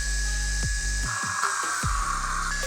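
A Fanttik Nano power drill whirs steadily while boring into vinyl flooring, its motor holding a continuous high buzz with a few brief dips and surges in pitch as it bites, close and fairly loud.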